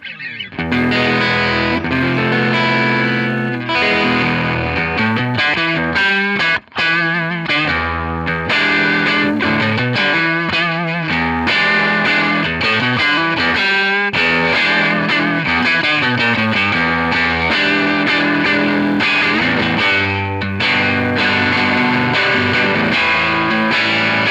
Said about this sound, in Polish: Pierwsze co słyszymy to jest oryginalny Vox 66 rok z lekką domieszką sali przez mikrofony wstęgowe